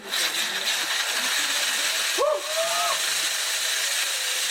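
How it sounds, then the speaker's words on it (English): Homemade salad chopping machine with a spinning knife belt runs with a loud, steady hiss-like roar throughout, broken by a brief dip midway, with a couple of faint tonal squeals over the noise. "let's see what it's like, Mr. Salad Chopping Machine."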